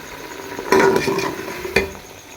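Mutton and potatoes sautéing in cooking oil in a pan make a steady sizzle, with a couple of sharp scraping stir strokes.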